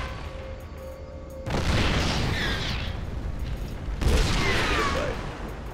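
Heavy weapon fire against a Spectre in StarCraft 2 booms in two loud, sustained blasts with crackling, rumbling bursts, separated by a short break.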